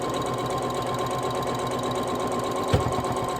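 Sewing machine stitching a gnome quilt block, a fast, even mechanical chatter running continuously at close range, with one brief thump near the end.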